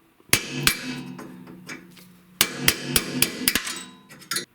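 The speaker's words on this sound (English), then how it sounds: "line up the punch with the pin, and then just hammer it out" Sharp metallic hammer strikes on a punch driving out a snowblower shear pin ring out in two bursts, a few slow blows then a quicker run of taps, each with a bright ringing tail.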